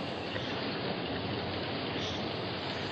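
Rain falls steadily as a radio drama sound effect in a 1954 Gunsmoke episode, a dense continuous hiss of drops with no voices, even in level throughout.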